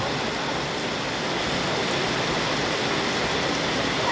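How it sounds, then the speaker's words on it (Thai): Rain falls steadily outdoors, a dense, even hiss of water that stays loud and constant with no voices over it. "ฝนกระตกพอดี"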